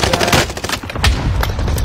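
Gunfire in a battle royale shooter game comes as a dense, loud burst of rapid shots and impacts that runs the whole moment, with game noise mixed in.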